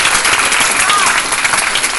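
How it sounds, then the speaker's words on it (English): Dense, continuous applause fills a hall at a live Smithsonian astronaut event attended by school groups, loud and even throughout with no pauses or voices standing out. "Let's give this number another round of applause"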